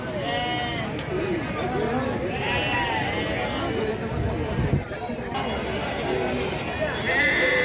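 Repeated bleats from a flock of sheep, lambs and rams at the Gangadhara livestock market in Telangana, close and overlapping. The calls come through constant crowd chatter and someone talking.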